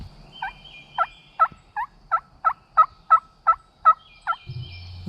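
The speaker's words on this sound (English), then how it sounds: "The gobbler was up ahead of me and to my left" A wild turkey gobbler in Alabama gobbles in a rapid burst of about ten evenly spaced notes, clear and moderately distant outdoors, with no talk over it.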